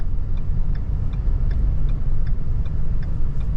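Truck cruising on Deerfoot Highway in snowy conditions, a loud continuous low road rumble with faint regular ticking, heard from inside the cab with no talk.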